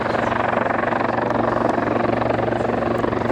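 A Lynx helicopter flying at the RIAT 2013 airshow gives a loud, steady rotor thump with continuous engine roar, close and unbroken throughout.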